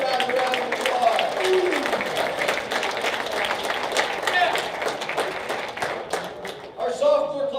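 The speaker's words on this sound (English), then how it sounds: "Give those guys a round of applause" Audience applauding at a high school football booster banquet, steady dense clapping filling the room for several seconds before tapering off near the end.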